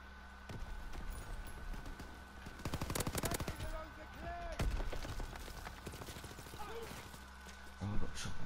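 Rapid bursts of gunfire from a Call of Duty WWII online match, with repeated automatic fire and single shots coming in waves over a steady game background and some voice chat.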